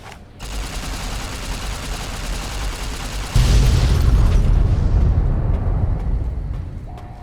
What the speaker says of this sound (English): there's one more warhead to be exploded